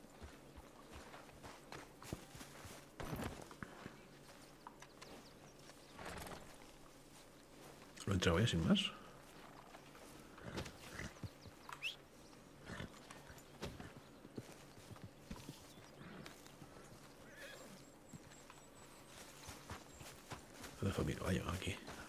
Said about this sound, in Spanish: Lo dejo mi caballo aquí.